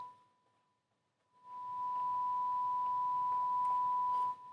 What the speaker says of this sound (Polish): sprawdzimy z sygnałem testowym